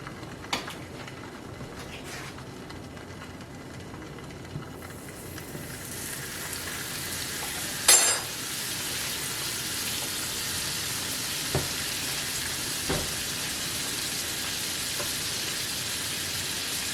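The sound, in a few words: food frying in butter after being flipped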